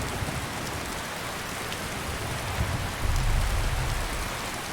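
Steady rain falls on a road in Skyrim Special Edition, a dense continuous hiss of drops with a heavier low rumble swelling briefly near the end, no voices.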